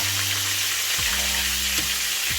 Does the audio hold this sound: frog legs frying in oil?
yes